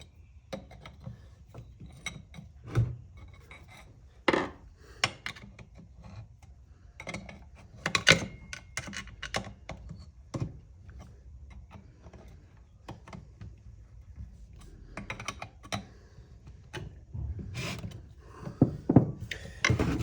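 Bolts being tightened while a 1951 Harley-Davidson Panhead transmission is reassembled in a workshop: scattered metallic clicks, ratchet taps and knocks of tools on parts, close and intermittent, with quiet gaps between bursts.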